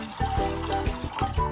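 About six to seven cups of water pour into a pot to make broth for a Korean spicy cod fish stew, a close, steady splashing and gurgling stream with slight surges.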